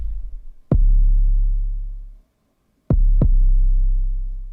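Heavy, gritty distorted bass line notes, a sustained low tone and then two quick struck hits, loud and up close with a short gap of silence between.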